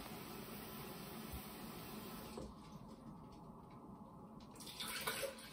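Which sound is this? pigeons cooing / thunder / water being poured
water being poured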